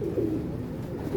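A female pigeon gives a low, soft, continuous coo from close by, faint and unbroken for about a second, with no talk.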